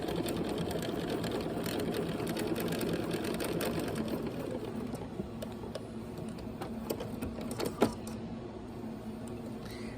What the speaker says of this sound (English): I am just allowing the machine to feed it through with the 1/4 inch stitch.